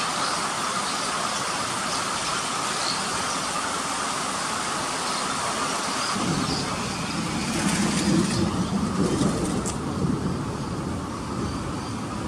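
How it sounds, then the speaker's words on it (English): Steady rain pours down in a dense, continuous hiss, with a low rumble of distant thunder swelling midway through, and a faint voice underneath. "It's raining outside."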